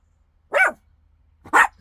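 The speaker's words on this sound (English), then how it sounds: "So then she barks at me" A dog barks twice, about a second apart, with each bark short, sharp and close, over an otherwise quiet background.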